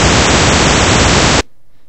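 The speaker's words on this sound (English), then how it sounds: "Just a really annoying sci-fi sounding sound." Harsh, loud burst of buzzing static from an image encoded as audio, with a warbling electronic texture, cutting off abruptly into near silence after about a second and a half.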